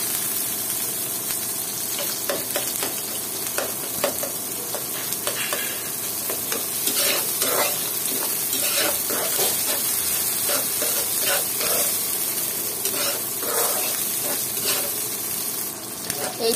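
A mixture of beaten egg and catfish roe fries in a pan, a continuous loud sizzle with repeated scraping and stirring strokes through it, heard close up.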